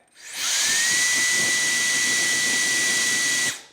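A WOLFBOX compressed air duster mini blower spins up to a piercing high whine with a rushing hiss of air aimed at a small bag, holds steady for about three seconds, then cuts off.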